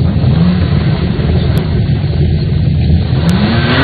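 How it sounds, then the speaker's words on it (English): A car engine rumbles steadily and loudly, a continuous low drone with a slight rise in pitch toward the end, no voices. "Let's just get to hear how it sounds when you're actually revving it out."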